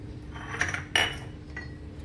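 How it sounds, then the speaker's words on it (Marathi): A spoon stirring sweet vermicelli kheer in a metal pot, a few scraping clinks with one sharper knock near the middle, close and moderately loud. "आता ते चांगले फिरवून घेते."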